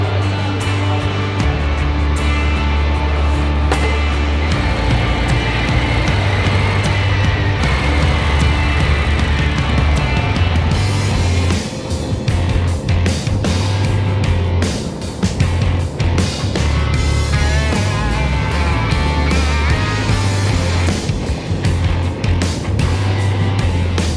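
Harley-Davidson M8 engine on a bobber build being ridden, a steady loud low rumble throughout with rising and falling throttle pulses, close and continuous with no talk.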